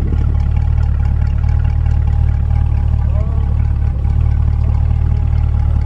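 A warmed-up 2020 Chevrolet C8 Corvette with its stock exhaust idles nearby, giving a steady, deep engine hum that holds even throughout.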